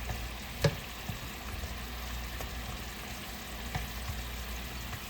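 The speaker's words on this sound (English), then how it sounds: "Just going to flip each piece so that it gets coated in the sweet sauce." Pork medallions cook in a sweet maple glaze in a pan, giving a steady, moderate sizzle throughout, with one brief sharp clatter early on as a piece is flipped.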